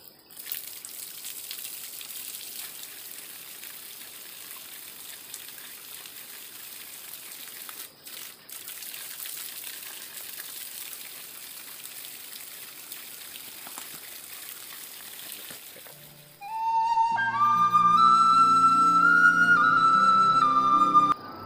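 Mountain stream water flowing on the trek to Rudranath, a steady soft rushing hiss for most of the clip, followed by music for the last few seconds.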